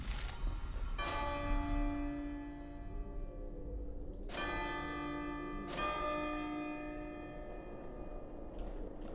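Three resonant bell strikes from a puzzle of blue, green and red bells in an indie video game, each a sharp clang ringing out with long, bright, sustained overtones that slowly fade, spaced a few seconds apart with no talking.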